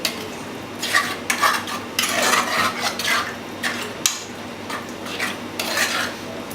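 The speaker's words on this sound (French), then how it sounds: "Donc voilà, je mélange." A utensil scrapes and clinks steadily around a pan as a sauce with red onion and chili is stirred off the heat for a Réunion sausage and chayote rougail, with faint sizzling beneath the irregular scraping strokes.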